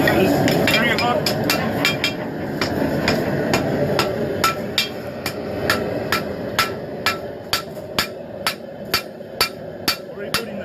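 A hammer forges a hunting knife blade in a series of ringing metallic strikes that grow more regular and evenly spaced toward the end, over a low background rumble.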